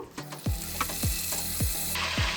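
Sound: curry leaves sizzling in hot oil

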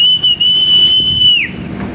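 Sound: whistle blown to call feeding animals

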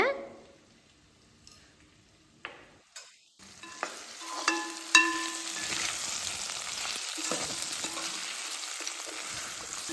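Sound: stir-frying vegetables in a pan

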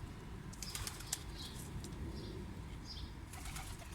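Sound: tumbler pigeon flapping wings in flight

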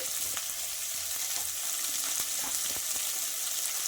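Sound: onions frying with salt in a pan

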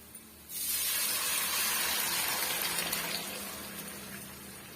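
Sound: dissolved tomato mixture poured into the pan for rasam

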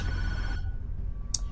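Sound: phone ringing in the Tattletail video game

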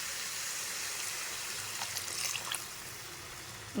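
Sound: water being poured into a pan of ridge gourd curry

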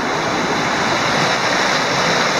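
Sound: water flowing over a weir structure

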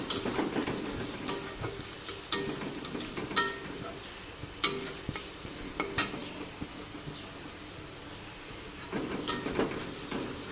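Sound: cumin and coriander powder frying in a pan

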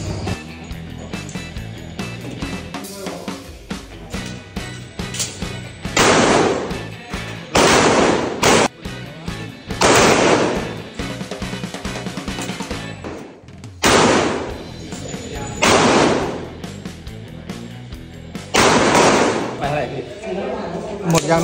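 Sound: gunshots from test-firing a gun

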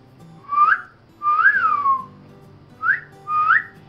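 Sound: person trying to whistle

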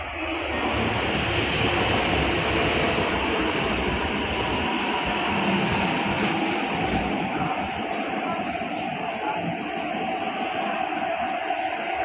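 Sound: subway train arriving at platform

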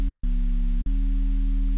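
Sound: Serum synth bass preset noise layer with heavy distortion

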